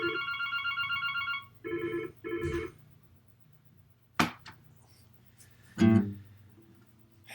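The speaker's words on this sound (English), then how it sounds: "Oh, that was the phone." A telephone rings in two short electronic bursts, then a pause, followed by scattered knocks and thuds nearby.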